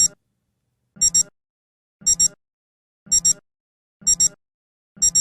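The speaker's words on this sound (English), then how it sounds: "With the alarm turned on, the alarm tone will sound for 15 seconds at the time set." A Citizen Eco-Drive watch alarm beeps in regular bursts about once a second, each a quick double-pulsed electronic chirp, close and clear with silence between.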